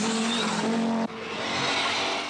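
A 1982 rally car on the narrow, twisting Isle of Man roads screams past at full throttle, its loud, close engine note shifting abruptly mid-pass with tire noise, no voices.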